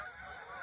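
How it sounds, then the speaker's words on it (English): A brief honk from a flock of geese, a short nasal call heard alone at moderate distance. "The only scary thing is the horde of geese."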